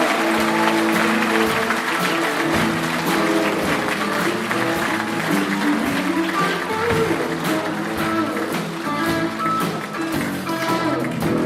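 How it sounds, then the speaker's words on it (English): Loud, sustained applause fills a hall at an appreciation service as a guest is welcomed, with many hands clapping and tonal music or voices running underneath throughout. "I want you to give a big round of applause"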